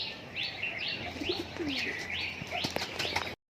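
Fancy pigeons in a loft cooing repeatedly in steady rhythmic calls, with a brief flutter of wings and faint background chatter, close and moderate in level.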